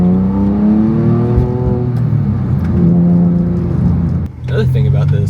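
A Porsche 997 Carrera 4S with a manual gearbox accelerates hard, its engine note climbing steadily in pitch, a brief dip at a gear change, then pulling again, loud and close from inside the car.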